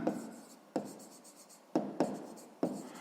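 A pen writes numbers in brackets during a sixth-grade maths exercise, producing short scratchy strokes in five separate bursts, each starting sharply and fading, close and fairly quiet.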